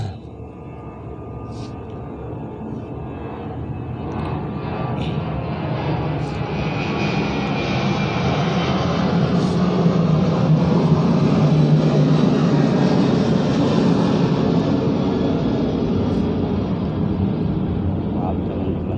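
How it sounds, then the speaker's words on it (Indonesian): A propeller airplane drones overhead, its engine swelling steadily louder to a broad roar and then holding, with a person talking faintly underneath near the start. "tadi ada pesawat lewat jadi agak berisik"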